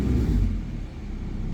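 Honda Civic EK engine revving as the accelerator is pressed, a steady close low rumble that surges in the first half second, dips briefly and then holds level, with the wheel spinning freely.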